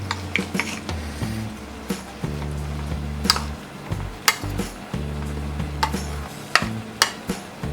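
A spoon scrapes and clinks against a bowl while butter corn is tossed with salt, pepper powder and butter, making repeated short taps and rattles over a low steady background hum, with no talking.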